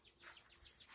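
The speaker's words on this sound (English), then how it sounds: "You can hear the birds chirping again." Faint, high bird chirps repeat in quick bursts over a quiet outdoor background, thin and distant with no voices.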